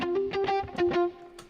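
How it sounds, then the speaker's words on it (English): Damped electric guitars panned left and right play short, choked notes in a quick rhythmic pattern, bright and buzzy, stopping abruptly with a faint trailing pluck. "these are called electric guitars left and right, damped"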